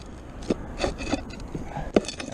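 A tool pries up under a nail head in wood, giving short scraping, rubbing and creaking strokes at an uneven rhythm, close and moderately loud, with no voices.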